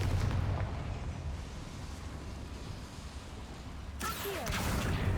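Confringo fire spell in the Hogwarts Legacy video game: a rumbling, roaring explosion blast that swells and fades, with a sharp fresh burst near the end.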